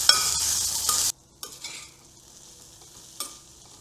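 A medium-sized onion sizzles loudly as it is stirred in a frying pan for about a second. The frying then drops to a quieter, steady crackle with a few scraping touches of the spoon.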